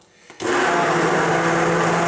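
After a brief quiet moment, a hand blender starts abruptly in boiling carrot and coriander soup and runs at a loud, steady whir, with a slight sloshing texture throughout.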